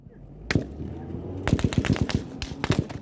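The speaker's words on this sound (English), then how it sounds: "but another hail of gunfire erupts." Automatic gunfire in a recorded attack on an ambulance bursts out in sharp, loud cracks, a single shot first then rapid clustered volleys, with faint voices underneath.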